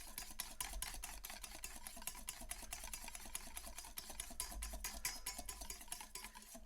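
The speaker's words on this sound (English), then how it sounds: "So I get a vigorous whisk going." A whisk beats rapidly against a bowl while mayonnaise is being made, a fast, even run of sharp metallic ticks that continues for several seconds, close and fairly loud with no talking.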